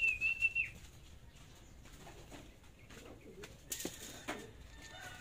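Racing pigeons arriving at the loft after a derby race: a few soft coos and chirps, and brief bursts of flapping wings close by, over a quiet background.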